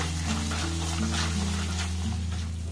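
Gram flour boondi frying in hot oil until reddish, a steady dense sizzle that holds at even loudness throughout, with a faint tonal hum running underneath.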